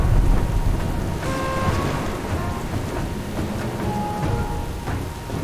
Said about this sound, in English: This storm will soon overwhelm us!